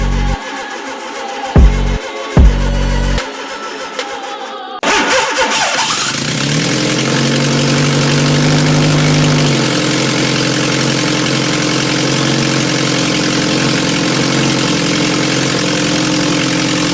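A Fiat Panda Turbo engine cranks in short bursts, then catches and fires into a loud, steady idle that runs on continuously, with no voices over it.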